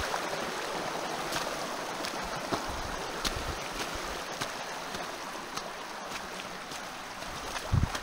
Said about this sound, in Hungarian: Egy kis patak